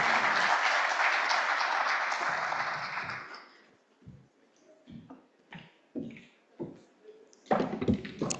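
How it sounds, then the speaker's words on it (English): Warm applause for a speaker at an oil and gas conference, dense crowd clapping for about three seconds that fades out, followed by scattered taps and knocks and a brief renewed burst near the end. "Let's give a warm round of applause for Mr."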